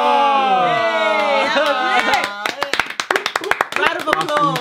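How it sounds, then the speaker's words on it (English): Hands clapping in a quick irregular burst, close and loud, following a passage of music with singing. "Round of applause."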